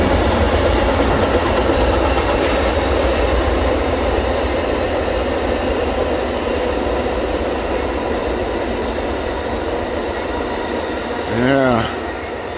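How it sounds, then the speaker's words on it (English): An Amtrak passenger train passes near the C&O Canal, a loud, steady rumble of wheels on rails that carries on for the whole stretch, with a brief rising horn-like tone near the end. "that's the Amtrak train"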